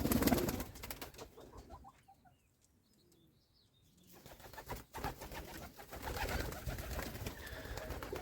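Pigeons in a rural loft make soft, low cooing and rustling, with bursts of wing flapping and movement loud at the start and end and a quieter stretch in between.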